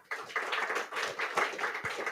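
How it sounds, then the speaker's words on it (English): Audience applause at a business meeting: a steady patter of many hands clapping at moderate distance for about two seconds, with no voices over it. "I hope you heard a lot of claps from the audience here"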